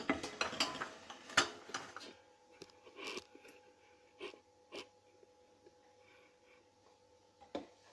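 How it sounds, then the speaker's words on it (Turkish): A large metal cooking pot clanks and scrapes in a series of sharp knocks and clatters while aşure with boiled wheat is prepared, with a faint steady hum underneath and pauses between handling. "Hemen tenceremi büyük bir tenceremi alıyorum."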